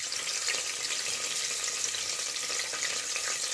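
Pimento, pepper and garlic frying in hot flavoured oil for a Jamaican brown stew chicken foot dish, a steady, soft, close hiss of sizzling throughout.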